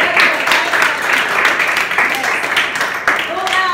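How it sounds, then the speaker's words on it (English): Children in a fifth-grade English class clap together in a dense, continuous burst of applause, loud and close, with voices mixed in. "Clap. Clap."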